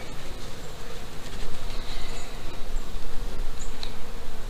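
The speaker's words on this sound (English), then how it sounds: "We got bees, as you can see, on top of the candy board." A dense, steady buzzing of many honeybees on top of a hive's candy board during a hive inspection, close and continuous throughout, with a low hum underneath.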